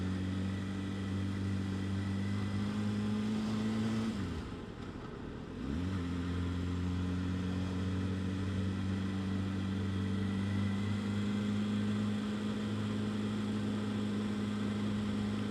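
Kawasaki ZX6R Ninja sport bike being ridden on a sunny commute, its engine holding a steady, constant drone throughout with one brief dip in pitch partway through, as if easing off the throttle.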